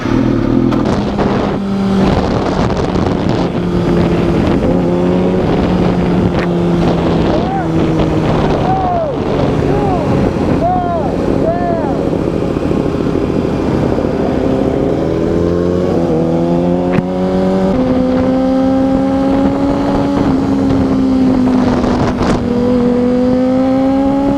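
A motorcycle pulling away in first gear, its engine rising and shifting through steady revving tones under strong wind noise, with a rider talking over it.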